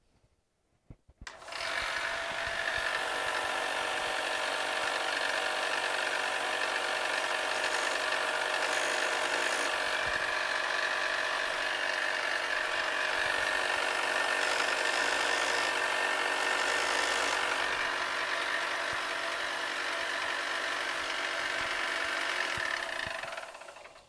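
A tool grinds steadily against the tip of a slotted screwdriver to square it up. The grinding is loud and continuous, a harsh, even sound that runs for more than twenty seconds without a break.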